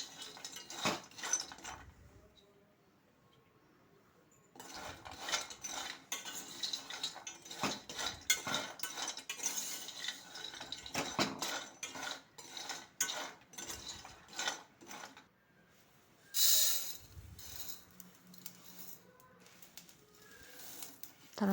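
Pistachios being roasted in a pan, stirred with a spoon that makes a busy run of light rattles, clinks and scrapes against the metal, close up, with a short pause near the start.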